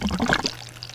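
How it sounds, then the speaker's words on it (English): Water pours and trickles as an aquaponics bell siphon drains into a greenhouse sump, a brief gurgling rush that fades quickly, close by. "it vortexes and then it siphons, and it will siphon all the water down until it pulls oxygen"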